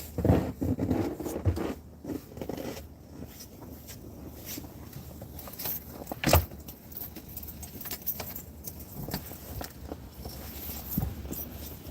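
Keys jangle and clink close by while a basement door is locked on a snowy day, with rustling clothing and scuffing steps between the metallic rattles.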